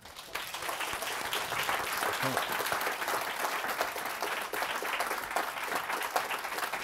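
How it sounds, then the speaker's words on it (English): A lecture audience gives a big, sustained round of applause after a sustainability talk, dense steady clapping filling the room evenly from start to finish, with some voices mixed in. "So let's have a big round of applause."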